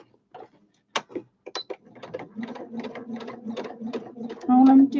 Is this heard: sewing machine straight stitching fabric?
yes